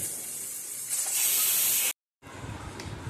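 A kitchen pressure cooker holding a stuffed mixed Gujarati vegetable curry hisses loudly as steam escapes when it is opened. The hiss swells for about two seconds, cuts off abruptly, then returns as a softer, rougher rush.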